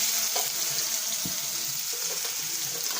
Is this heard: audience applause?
no